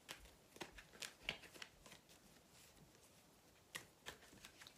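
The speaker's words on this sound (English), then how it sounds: "So I'm going to shuffle." Tarot cards shuffled by hand, soft close riffling and slapping bursts in an irregular rhythm, quiet and alone.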